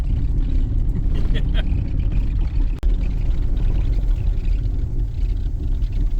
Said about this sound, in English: Land Rover, doing its job.